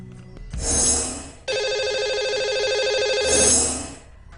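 A telephone rings on the line, two long electronic ring bursts with a steady tone between them, clear and close.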